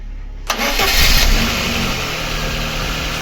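A VAZ 2110 car engine, freshly repaired, cranks and catches, then settles into a steady, rumbling idle close by, with no voices.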